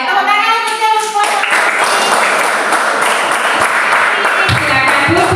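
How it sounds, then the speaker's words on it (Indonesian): Applause from a classroom of children, with many small hands clapping together in a dense, steady patter for about three seconds before it tapers off. A short voice is heard at the start and again at the end. "Tepuk tangan untuk yang support."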